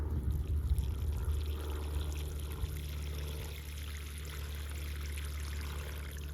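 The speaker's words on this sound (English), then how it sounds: "I'm gonna put a little bit of water down in there." Water pours steadily into a freshly dug garden planting hole, a continuous close splashing gush with low rumble that runs without a break for the whole stretch.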